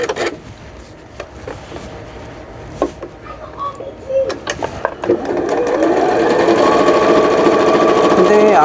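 A sewing machine stitches a fabric glasses case, starting with scattered clicks and handling noises before settling into a loud, continuous whirring run for the last few seconds.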